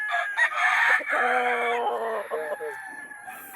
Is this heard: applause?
no